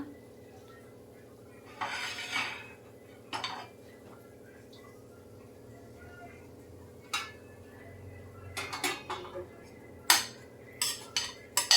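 Fried palak chutney ingredients scraped from a pan onto a plate, with scattered clinks and scrapes of a utensil against metal in short bursts, some clustered near the end, over a quiet low hum.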